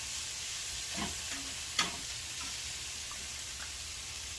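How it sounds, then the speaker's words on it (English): Onions and peppers caramelize in a pan for Guyanese cook-up rice, frying with a continuous close sizzle and hiss, broken by a few faint clinks and one sharper tap. "the onions and peppers are getting a nice caramelization on them"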